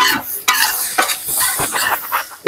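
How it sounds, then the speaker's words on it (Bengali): Eggs and vegetables stirred in a hot pan for village-style chow mein, a spatula scraping and clattering in quick irregular strokes over a steady sizzle, close and fairly loud, with no talking. "এবার ভেজিটেবলের সাথে ডিমগুলিকে মিক্স করে দেবো"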